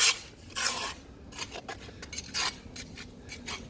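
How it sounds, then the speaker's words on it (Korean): Abrasive grinding and polishing on a badly cracked concrete rooftop floor before waterproofing, heard as rough, raspy scraping in short uneven bursts, close and moderately loud with no talking. "지금 연마 작업하고 있는데"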